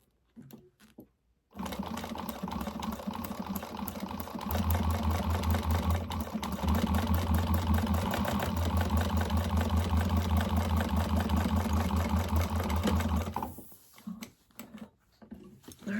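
A sewing machine runs steadily for about twelve seconds, a continuous mechanical whir with a rapid stitching rattle, starting abruptly and stopping near the end, with no talk.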